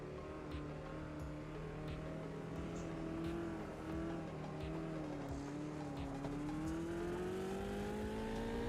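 Race car engine droning steadily with shifting pitch as it weaves to warm the brakes, tires faintly squealing beneath, heard close from the cockpit with no talk.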